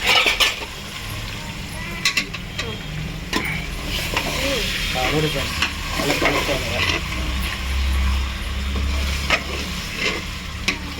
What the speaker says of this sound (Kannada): ಪಾತ್ರೆಲಿ ಹಾಕಿದ್ದಾರೆ ಚಿಕನ್ನು ಆಯಿಲಲ್ಲಿ ಇವಾಗ ಚೆನ್ನಾಗಿ ಕಲಿಸ್ತಾರೆ